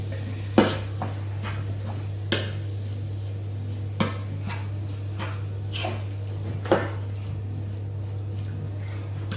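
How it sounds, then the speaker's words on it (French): Spicy ground meat seasoned with piment d'Espelette being stirred in a cooking pan: a utensil knocks against the pan every second or two, sharp and close, over a steady low hum with no talking. "Donc on remue."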